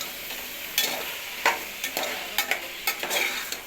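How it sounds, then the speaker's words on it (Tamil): Chopped vegetables for a vegetable biryani frying in a pan, a continuous close sizzle broken by scraping stirs at irregular intervals, with no voices. "இப்போ தேவையான காய்கறிகள்லாம் அரிஞ்சு வச்சுருந்தோம்ல அதெல்லாம் போட்டு நல்லா ஃப்ரை"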